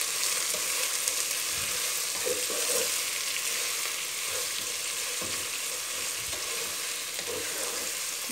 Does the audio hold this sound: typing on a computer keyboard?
no